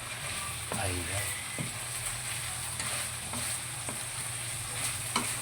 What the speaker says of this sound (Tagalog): Lalagay na po yung isang katutak na tokwa.